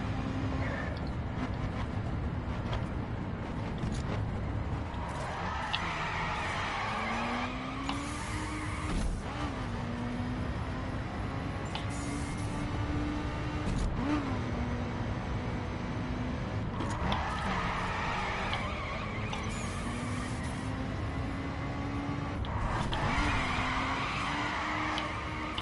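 In the racing video game The Crew, a car drifts with a steady engine drone and repeated long tire squeals and skids that rise and fall throughout, continuous and loud with no speech.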